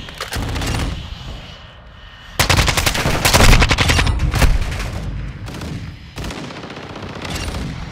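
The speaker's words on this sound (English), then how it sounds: "Sniper rifle here." Video game sniper rifle gunfire rings out in several loud sharp bursts separated by short quiet gaps, with rapid repeated shots in the middle stretch.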